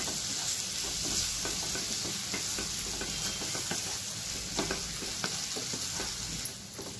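Prawns sautéing in hot oil in a pan for a masala fry, producing a continuous close sizzle with frequent spatula scrapes and stirring clatter throughout, no voices.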